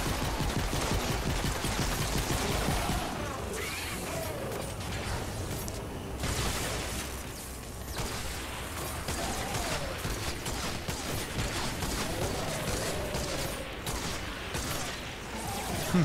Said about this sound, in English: Missed a lot of those shots.